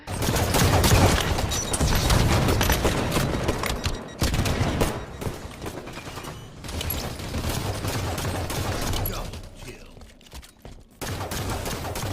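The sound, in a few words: gunfire in a Halo video game match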